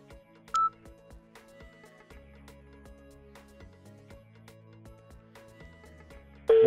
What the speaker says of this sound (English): We're dialing the number and the phone rings.